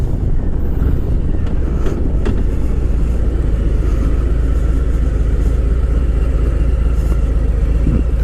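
A 2018 Harley-Davidson Softail Heritage Classic motorcycle on a ride, a deep steady engine rumble with wind noise and a few shifts in tone, loud and continuous, no talk.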